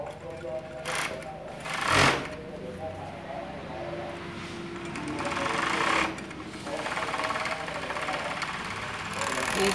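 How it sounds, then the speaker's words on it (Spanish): An overlock serger sewing machine runs in steady whirring bursts while stitching the front crotch seam of pajama shorts, with brief louder surges and a low mechanical hum throughout. "vamos a coserla en la fileteadora"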